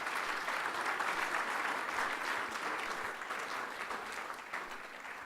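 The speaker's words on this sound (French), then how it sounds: "Applaudissez-les, s'il vous plaît." Sustained applause from an audience at a digital-economy presentation in French Polynesia, honoring a group of ten young coders; steady, dense clapping throughout, fairly distant, with no one speaking over it.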